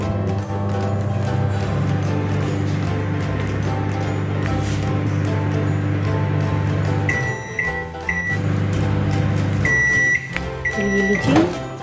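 A microwave oven heating cut tomatoes in a container hums steadily with a low mechanical drone, then the run stops and a series of loud electronic beeps chime near the end.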